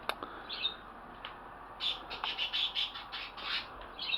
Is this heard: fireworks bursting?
no